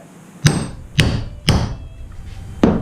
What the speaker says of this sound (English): 3 good whacks,